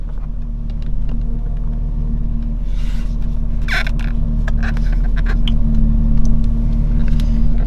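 A VW Touareg with a power steering fluid leak runs with a steady low engine hum and a faint whine from its steering pump, under scattered clicks and knocks, with no speech.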